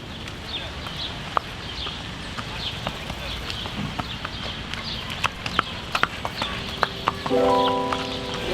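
A horse grazes on fresh grass outdoors, its hooves giving scattered, irregular clip-clops nearby amid ambient outdoor noise, with a brief tonal sound near the end.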